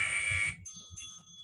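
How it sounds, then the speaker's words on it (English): A workout timer alarm blares a harsh, high electronic buzz for about half a second, then cuts off, followed by fainter shrill beeping tones in a quiet room during a suspension training session. "Oh my gosh, that noise is awful. I need to change that on that timer."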